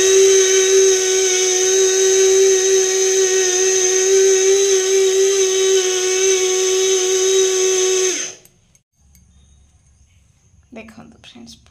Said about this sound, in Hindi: एटा मोर मिनी ग्राइंडर